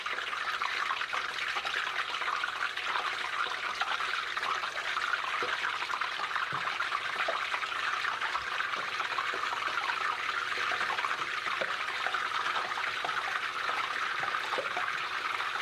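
Plantain slices for tostones fry in hot oil in a pan, giving a steady, even hiss with faint crackles throughout and no talking.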